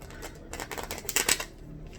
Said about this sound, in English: These cards are so thick to shuffle.